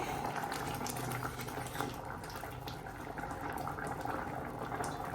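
A pot of red lentil dal cooking for a bhuna dal, giving a steady close bubbling and simmering hiss that runs unbroken throughout with no talk.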